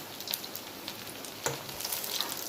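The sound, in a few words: chowmein pakoras frying in oil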